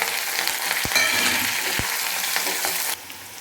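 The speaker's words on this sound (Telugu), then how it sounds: "1 పెద్ద వెల్లుల్లి రెబ్బలు లైట్గా అట్లా దంచుకొని అంతా వేసుకొని ఫ్రై చేసుకుంటాము." Onion, green chilies, crushed garlic and curry leaves sizzle in hot oil for a tempering, a loud close crackling fry with a couple of stirring knocks before the sizzle drops abruptly near the end.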